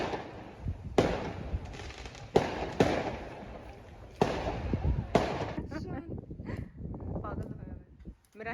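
New Year's Eve fireworks and firecrackers crack and boom in a loud irregular series of sharp bangs, some near and some farther off, while people talk underneath.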